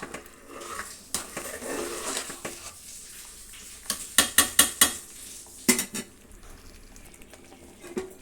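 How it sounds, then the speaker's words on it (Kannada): A spoon stirs vegetable rice bath made with potato and carrot as it boils in a pot, with a run of sharp, close scraping and clinking strokes in the middle against a soft bubbling background. "ನೋಡಿ ನಾವು ಈ ರೀತಿ ಕುದಿಯುವಾಗ ಹೀಗೆ ಮಿಕ್ಸ್ ಮಾಡಿದರೆ ತರಕಾರಿ ಎಲ್ಲ ಪೂರ್ತಿ ಅನ್ನದೊಳಕ್ಕೆ ಅಕ್ಕಿ ಒಳಗೆ ನೀಟಾಗಿ ಮಿಕ್ಸ್ ಆಗುತ್ತೆ"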